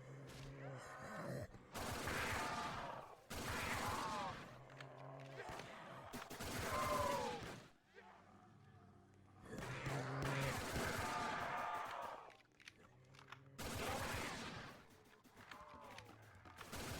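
Repeated bursts of gunfire from the Lone Survivor weapon in the Roblox game Project Lazarus, arriving in loud clustered volleys with short gaps between them and zombie groans mixed in.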